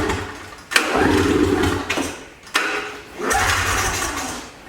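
Engine of a 2005 Polaris Trail Blazer quad cranking without firing, in two long churning bursts separated by brief pauses, close and loud.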